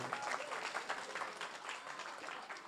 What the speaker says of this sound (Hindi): एक बार इनके लिए तालियां बजाइए